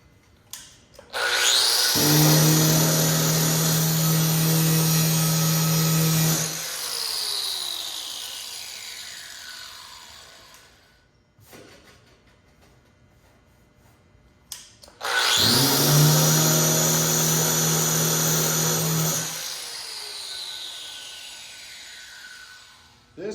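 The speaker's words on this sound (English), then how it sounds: "See if that shrinking disc will pull that down." Two long bursts of a shrinking disc grinding against the sheet metal of a Chevy C10 cowl hood, each winding down slowly, separated by a quiet pause.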